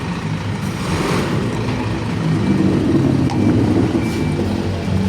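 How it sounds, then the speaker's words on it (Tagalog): A used truck's engine idles steadily and quietly at close range, a continuous low rumble with no voices over it. "Tahimik ang makina."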